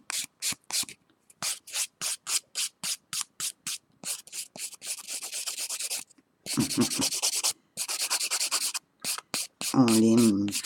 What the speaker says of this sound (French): On lime pour enlever nos défauts